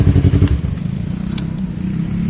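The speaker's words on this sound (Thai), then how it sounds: "เดี๋ยวขออนุญาตดับเครื่องยนต์ครับ" A 2015 Yamaha YZF R3 motorcycle engine idles with a low, steady throb, a few clicks and ticks over it, then cuts out abruptly at the end, leaving silence.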